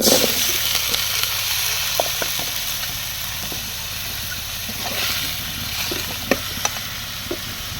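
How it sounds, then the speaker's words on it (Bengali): Onions fry in a pan until reddish-brown, giving a steady, close sizzling hiss with occasional light scrapes and clicks from stirring. No one speaks. "এই যে পেঁয়াজটা হয়ে গেছে, লাল লাল করে ভেজে নিচ্ছে"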